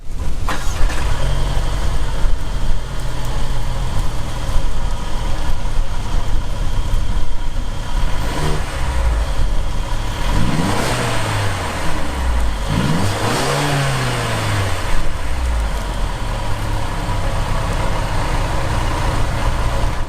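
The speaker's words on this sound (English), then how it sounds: "let's give this engine a listen here" A 2017 Mercedes-Benz GLA250 engine revs up repeatedly, climbing and falling in pitch a few times over a steady idling rumble, close and loud.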